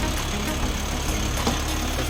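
A Lovol 354 four-wheel-drive 35-horsepower mini tractor pulls away, its diesel engine chugging steadily at close range for a couple of seconds with no voices over it.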